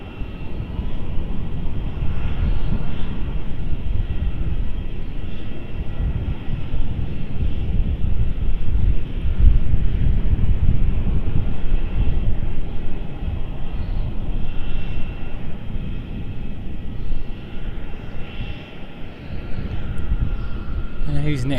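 An airliner climbing steeply after takeoff from Melbourne Airport gives a steady, loud broadband engine roar that holds for the whole stretch, with wind buffeting on the microphone and voices talking over it.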